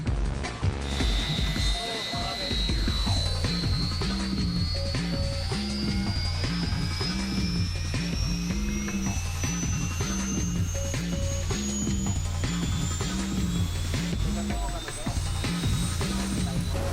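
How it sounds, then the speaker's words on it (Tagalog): A rescue helicopter lifts off during an earthquake drill, its turbine whine climbing steadily in pitch over a loud, continuous rhythmic rotor chop that lasts throughout. "Helicopter with rescue team ready to take off,"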